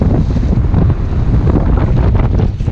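Strong wind roaring across the microphone aboard a sailboat on the Mississippi River, a loud, steady buffeting rumble with faint water wash beneath, no talking.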